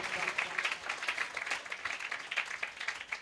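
Church congregation clapping loudly for the Lord during a New Year worship service, a dense, steady wash of many hands clapping together for a few seconds, with some voices mixed in.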